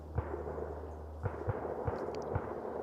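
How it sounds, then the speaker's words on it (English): Several distant gunshots, sharp dull pops spaced irregularly over a low steady rumble. "Hear them gunshots?"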